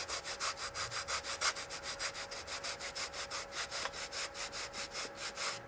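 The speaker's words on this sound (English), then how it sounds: "I'm going to wrap that thin piece of sandpaper over that leading edge that I need that shape" Thin sandpaper rubs back and forth over the leading edge of an RC airplane wing in quick, even strokes, a close, steady scratchy rhythm that stays soft and continues throughout.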